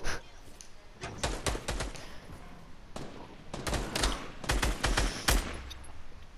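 Gunfire in the Fortnite video game comes in rapid clusters of sharp, loud shots, forming several bursts and single cracks spread across the clip with no speech.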